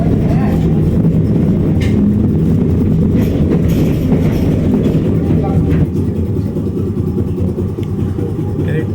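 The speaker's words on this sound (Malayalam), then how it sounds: "ടോട്ടലി ട്രാം ഉണ്ടല്ലോ പതിനെട്ട് സ്റ്റോപ്പുകളിൽ നിർത്തും" Steady low rumble of a tram rolling along rails in Christchurch, continuous and fairly loud throughout, with faint rattles and clanks on top and no talking.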